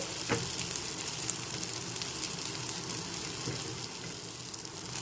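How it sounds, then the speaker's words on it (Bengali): Soaked poha is stirred in a hot pan for poha kheer, with a steady sizzle and occasional light scrapes and clicks from the spoon, close and moderately loud. "এখন একটু নেড়ে চেড়ে নিতে হবে"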